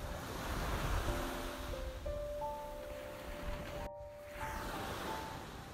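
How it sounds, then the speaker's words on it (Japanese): Big waves crash onto a white-sand beach at Hamada on Tanegashima under strong morning wind, a steady broad roar of surf and gusting wind with a brief dip near the end. "朝は風も強く 大波だった。"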